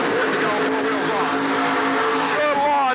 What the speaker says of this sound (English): Bouncing all over the place, and what a ride for Butch Graf from Mount Airy, Maryland.